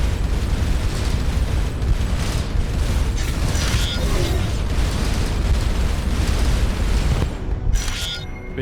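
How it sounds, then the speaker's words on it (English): An alien base blowing up as it is destroyed in the space game Starcom: Unknown Space, heard as a dense, steady roar of rumbling explosions and mechanical crackle that holds loud for several seconds before easing off at the end. "Base destroyed."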